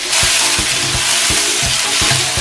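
Chilli and celery pieces stir-frying in hot oil in a wok with ginger and garlic, loud continuous sizzle over a regular rhythm of spatula scrapes and knocks, about six strokes, with no voices.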